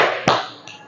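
A classroom of students at a geography lesson gives one sharp, close clap followed by a much fainter trailing tap, brief and bright against a quiet room hum.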